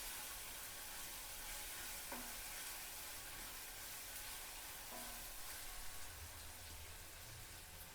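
Green chillies ground with salt frying gently in a pan for an Indian potato and flat bean curry, a faint steady sizzle with a couple of soft stirring clinks and no voices.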